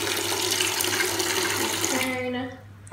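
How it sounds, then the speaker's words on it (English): Tap water pours steadily into a bucket in a bathroom, a loud, close, continuous rushing splash that cuts off near the end, leaving only a faint trickle. "I'm already filling up the bucket"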